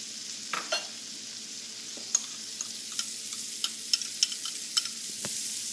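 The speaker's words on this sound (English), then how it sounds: "add the butter and garlic and get it cooking in that" Butter and garlic sizzle in a pan over medium-low heat, a steady soft frying hiss with scattered light clicks and a few brief stirring taps, no voices.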